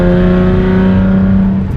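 A loud modified Hyundai Genesis Coupe 3.8 R-Spec engine holds a steady droning idle close by, its deep exhaust tone thick with a strong harmonic hum.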